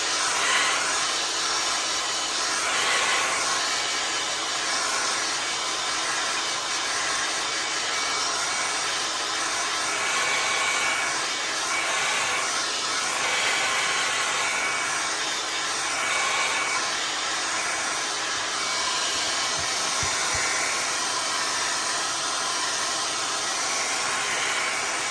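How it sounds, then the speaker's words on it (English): A hairdryer blows steadily at close range over a freshly blue-dyed leather jacket, a constant broadband whoosh held at even loudness for the whole stretch with slight wavering as it is moved. "then you can dry that with the hairdryer"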